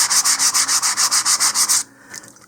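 Sandpaper rubs quickly back and forth on a plastic model rocket part, about a dozen rhythmic close strokes in an even pulse before stopping, followed by faint handling noise.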